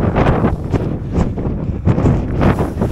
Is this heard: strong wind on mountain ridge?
yes